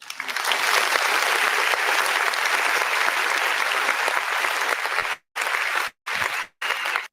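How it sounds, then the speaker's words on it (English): A crowd at a Black History Month celebration applauds loudly and steadily for about five seconds, then the clapping breaks into a few short bursts separated by brief silences. "give yourself a round of applause"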